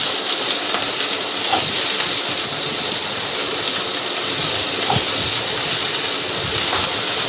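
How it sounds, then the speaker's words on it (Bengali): Potatoes dropped into hot mustard oil fry with a steady, dense sizzle and hiss that runs unbroken through the whole stretch, loud and close, with no voices. "তেল গরম হয়ে গেছে, তার উপর আলু ছেড়ে দিচ্ছি"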